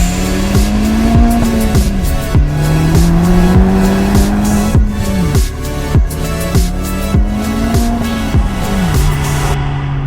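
An Acura Integra Type S is driven hard, its engine climbing in pitch through repeated rising sweeps that drop at each gearshift, with tire noise throughout. The sound is loud and close, with no talking.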